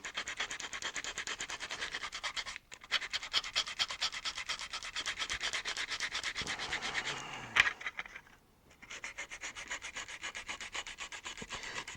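Sandpaper rubbed steadily over a model piece held flat, a continuous close scratchy rasp that breaks briefly twice, then resumes at an even pace.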